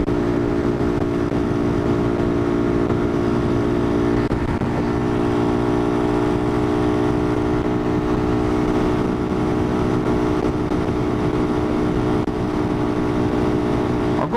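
A motorcycle engine drones steadily at close range, a constant loud hum with only slight rises, as revs build gradually on flatter ground during a ride.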